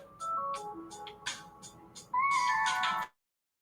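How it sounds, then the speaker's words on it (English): A phone ringtone for an incoming call plays as a bright electronic melody of short tones, then a louder sustained chiming phrase that cuts off abruptly, fairly faint and alone. "I got a call coming in."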